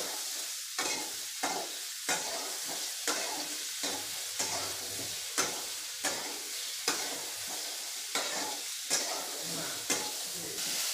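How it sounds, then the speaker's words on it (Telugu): Mushrooms fry in a pan toward light golden, a continuous soft sizzle broken by regular spatula scrapes and taps roughly every second, close and moderately loud with no talking. "లైట్గా గోల్డెన్ కలర్లోకి వచ్చే వరకు ఫ్రై చేసుకోండి. చూడండి, ఈ విధంగా ఫ్రై చేసుకోవాలి."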